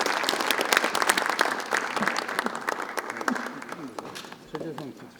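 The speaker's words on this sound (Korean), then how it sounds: "뜨거운 박수 쳐주시기 바랍니다." A room of Democratic Party lawmakers at a general assembly meeting breaks into sustained, dense applause that tapers slightly toward the end, with a voice briefly heard over it.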